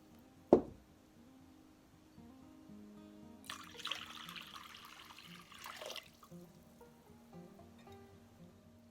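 Warm water runs from a tap into a container for a homemade cleaner, a soft steady splash of a few seconds that comes after a single sharp knock.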